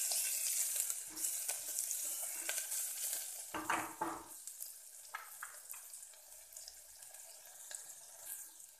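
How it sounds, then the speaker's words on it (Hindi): Turmeric and coriander powder are stirred into hot oil in a pan while cooking a potato and fava bean curry. A steady close sizzle runs under scraping spoon strokes, with no voices. "अभी सबसे पहले हम इसमें हल्दी ऐड कर देते हैं और ये धनिया पाउडर, इसको एक साथ अच्छे से मिक्स कर लें।"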